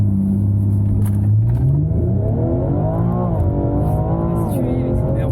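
A BMW M240i in sport plus mode launches at full throttle, its engine note climbing loud and close in a rising, wavering rev with a faint tire squeal, while voices talk over it.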